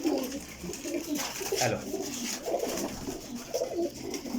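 Pigeons of a flying breed cooing nearby in a loft in Jhelum, a series of soft, repeated throaty coos layered over one another, with a single brief spoken word.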